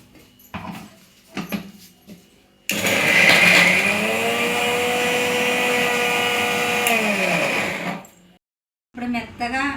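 A mixer grinder in a home kitchen whirs loudly and steadily for several seconds while grinding a paste, then cuts off; someone speaks before and after the run.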